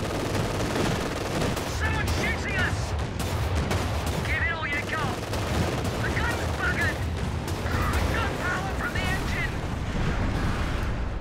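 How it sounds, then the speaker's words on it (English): A Bofors autocannon fires at vehicles, including a Panzer IV, in the strategy game Company of Heroes 2: dense rapid bursts and explosions run continuously amid loud battle noise throughout. "So now testing the new Bofors against vehicles."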